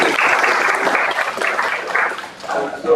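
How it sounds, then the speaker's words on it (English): An audience claps continuously at a startup funding event in Mumbai, a dense steady applause with a voice or two mixed in. "One more ladies and gentlemen, clap for you."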